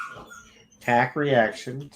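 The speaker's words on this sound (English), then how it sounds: "now the dog is whining right outside my door" A dog whining right outside a door, a few close, loud, high, wavering whimpers in quick succession.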